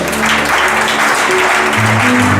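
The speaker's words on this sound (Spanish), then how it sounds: "¿Cuánto le dan un aplauso al Señor?" Church congregation applauding loudly and steadily, a dense wash of clapping filling the room for a couple of seconds.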